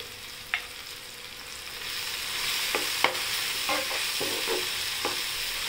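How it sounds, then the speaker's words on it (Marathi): Tomato pithale with turmeric sautéing in a pan: a constant sizzling hiss with several light spoon clinks and scrapes from stirring, close up and without talking. "आता आपण त्याच्यात हळद टाकूया. छान परतून घेऊ परत."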